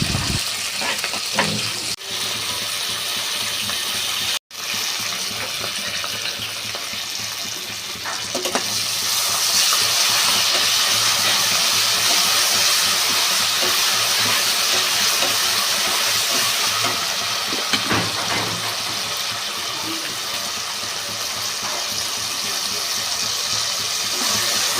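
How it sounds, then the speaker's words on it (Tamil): Ginger, garlic and green chili fry for veg biryani with a loud, steady sizzle and scraping stirring throughout, briefly cutting out near the start. "இஞ்சி, பூண்டு, பச்சை மிளகாய் அதை போட்டு நல்லா ஃப்ரை பண்ணணும்"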